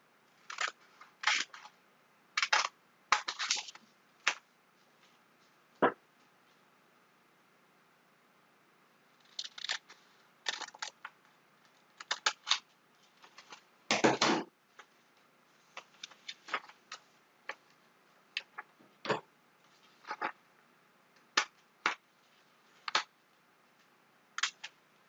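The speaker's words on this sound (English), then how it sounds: "So I've got my little scissors here, and I don't want to cut" Small scissors snip through a paper sector in short, crisp bursts, a run of quick close cuts followed by scattered single snips with pauses between, clear and alone in a quiet room.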